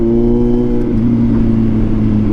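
Kawasaki Z900 motorcycle exhaust held at a loud, steady rev, a deep harmonic drone running unbroken and close for a couple of seconds with no talking.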